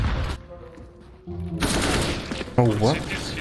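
Gunfire in the video game CS:GO, loud bursts of shots over a busy game mix, with a player speaking excitedly through it.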